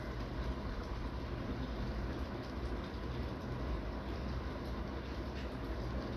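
A train runs along an elevated track near a station in Kuala Lumpur at night, a steady, distant rumble that blends with traffic noise on a busy street below, with no voices.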